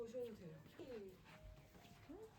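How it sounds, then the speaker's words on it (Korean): A newly adopted rescue dog whimpers and yips indoors in short, high, whining cries spread across a couple of seconds, fairly close, with faint talk in the background. "강아지. 들어오셔도 돼요."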